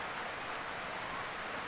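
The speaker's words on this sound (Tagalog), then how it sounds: "Tinitignan natin ang labas. Kasi umuulan." Steady rain falling outside a house, a continuous even hiss of drops at moderate distance, no voices.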